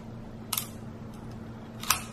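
A small, unusual film camera being closed and reopened to advance the film, two sharp mechanical clicks about a second and a half apart, close and quiet with no talk.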